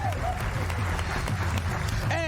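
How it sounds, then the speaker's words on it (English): A studio audience on a late-night talk show applauds in a dense, continuous patter of clapping, with voices talking and cheering over it. "Applause."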